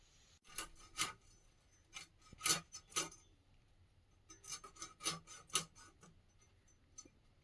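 Knife cutting through tilapia fish, a series of sharp close scraping and chopping strokes in two irregular clusters, quiet and without talk.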